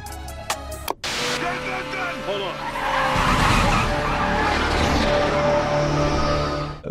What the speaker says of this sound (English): We see the guy's driving a 550 Maranello.